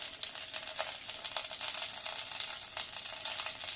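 Green chillies and Bengali five-spice tempering fry in oil for a cucumber shukto, making a faint, continuous crackling sizzle with scattered light pops, heard close and alone without any talk.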